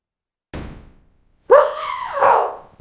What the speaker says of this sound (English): That wasn't a palace guard, that was a dog.